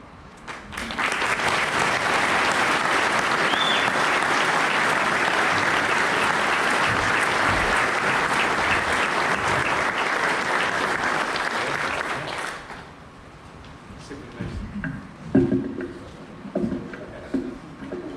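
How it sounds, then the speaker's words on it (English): Applause at a United States Air Force chief's retirement ceremony: a large indoor crowd claps loudly and steadily for about twelve seconds, then the clapping stops abruptly, leaving scattered quiet room noise and a few faint sounds. "We already clapped. Let's not clap again."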